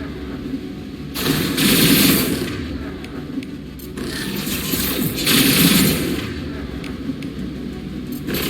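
Sustained bursts of sci-fi weapon fire in the action shooter Mass Effect 2, including shotgun and antimatter rifle, loud and continuous in two swelling volleys over a rumbling battle backdrop, without any speech.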